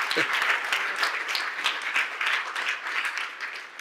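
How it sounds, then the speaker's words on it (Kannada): A church congregation claps hands together in a sustained, dense patter of many palms that holds steady for several seconds, filling the hall with no break. "ಎಲ್ಲರೂ ಈ ಕೈ ಚಾಪಾಳೆ ತಟ್ಟಿ, ಎಸ್ ಈಗ ತಟ್ರಿ ಕೈ ಚಾಪಾಳೆ"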